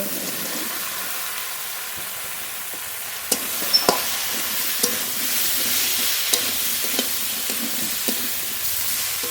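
Washed, cut ridge gourd frying in a spice paste cooked down with water, giving a steady close sizzle broken by occasional sharp spatula clicks against the pan.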